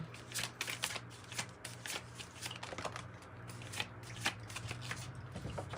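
Tarot cards are shuffled by hand close up, giving a steady run of crisp riffling slaps with a soft low hum behind them.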